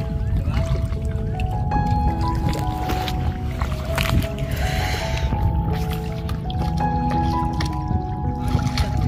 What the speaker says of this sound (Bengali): সব জায়গায় পানির একটা শব্দ।